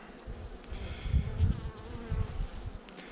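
A swarm of Buckfast honey bees gives a continuous close buzzing drone that swells and fades in low, throbbing waves, with no talking.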